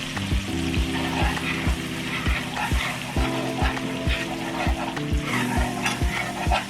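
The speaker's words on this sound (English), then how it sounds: "you want to add about 2 tablespoons of flour to this, and you want to whisk that around" Flour whisked into melted butter in a pan to make a roux for mushroom gravy: steady sizzling with a regular series of sharp whisk strokes tapping and scraping the pan, close and continuous, with no talking.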